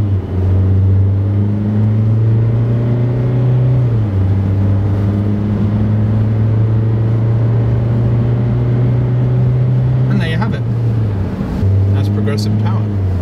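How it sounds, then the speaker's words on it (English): A SsangYong Musso 2.2 pickup with a six-speed automatic accelerates hard to 60, its engine droning steadily with a gear change partway through, heard from inside the cabin alongside speech. "a lot of people are interested to see how fast a pickup hits 60"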